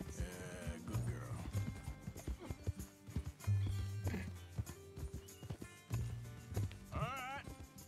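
Horse hooves clip-clop in Red Dead Redemption 2, a few short bursts of walking steps with an occasional whinny, heard under game music and a talking voice.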